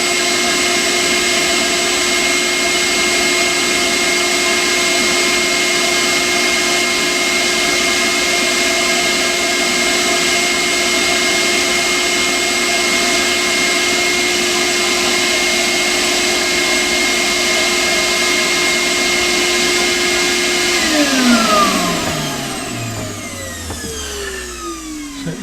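Cyclone dust collector drawing planer shavings through a 4-inch pipe in a small shed, a loud steady motor whine and airflow roar that later winds down as the motor spins to a stop.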